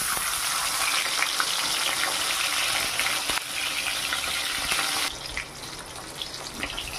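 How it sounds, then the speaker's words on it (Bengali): Fish fries in hot oil in a wok with a continuous, close sizzling crackle that softens slightly toward the end, with no voices. "প্রথমে আমি মাছগুলোকে ভেজে নেব।"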